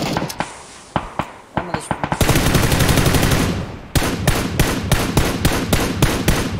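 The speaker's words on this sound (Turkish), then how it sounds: "Bir tane vurdum uzaktakine." Gunfire in the video game PUBG rattles in single sharp shots, then bursts into rapid continuous automatic fire and more spaced rhythmic shots, loud and close, with players talking over it.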